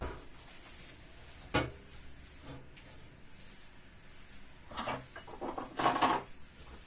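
Clean dishes being moved and put away in a kitchen: scattered clinks, scrapes and knocks of crockery and cutlery, loudest in a cluster toward the end, over a quiet background hiss.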